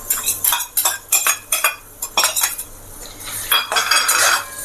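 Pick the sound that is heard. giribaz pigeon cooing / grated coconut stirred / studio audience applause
grated coconut stirred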